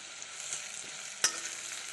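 Onions fry in a pan for a broccoli curry with steady close sizzling, and one sharp scrape or clink of a spatula partway through; no voices.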